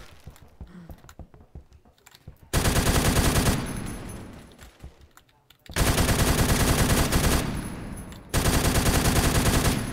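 Sustained bursts of M60 machine gun fire in the first-person shooter Phantom Forces, loud and dense, coming in three long sustained volleys separated by brief quieter gaps with faint background game sounds.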